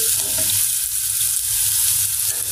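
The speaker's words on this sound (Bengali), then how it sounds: "এদিকে যে আলু ভাজি করতেছি" Potatoes frying in a pan, a close, steady sizzle with soft stirring noise, loud and unbroken.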